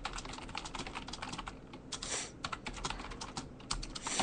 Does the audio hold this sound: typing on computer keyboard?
yes